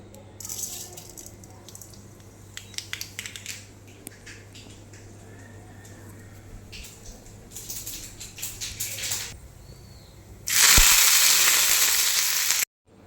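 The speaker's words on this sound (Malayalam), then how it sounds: "കടുകിട്ട് പൊട്ടിക്കാൻ കേട്ടോ" Crackling and sizzling of mustard seeds in hot oil with scattered pops, then a loud burst of hissing spluttering near the end; no speech is heard.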